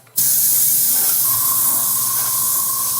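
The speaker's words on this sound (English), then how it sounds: "let's switch gears and try airbrushing on some ink" An airbrush spraying ink onto a dungeon wall model: a sudden loud, steady hiss of air starts almost at once and holds evenly, close to the ear.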